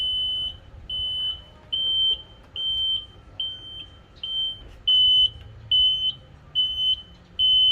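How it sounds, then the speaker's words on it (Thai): Left turn signal buzzer on a motorcycle being fitted with new brake lever, brake cable, throttle grip and speedometer cover, beeping in a steady repeated rhythm of short high tones, about ten beeps, close and clear over low background noise. "ดี๋ยวมาลองเทสไฟ ไฟเลี้ยวซ้าย"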